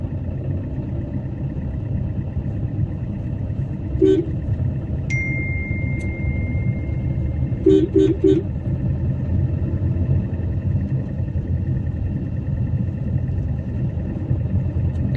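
A car engine hums steadily inside the cabin during a driving lesson as the car turns under light acceleration, a constant low rumble with a few brief clicks and a faint tone over it.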